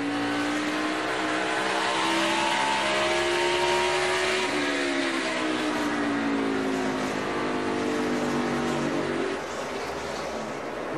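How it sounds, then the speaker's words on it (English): NASCAR race cars lapping the Phoenix racetrack, a steady loud engine roar with rising and falling pitch as cars pass, continuous throughout with no talk. "Junior putting a lap on hometown driver Danica Patrick"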